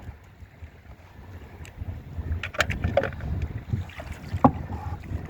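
Gusty wind rumbles and buffets the microphone on a small leaking boat being paddled near shore, rising and falling, with faint water and boat knocks coming through.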